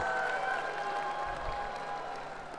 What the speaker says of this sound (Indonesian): Saya bagi tepukan gemuruh dekat ST3 penuh.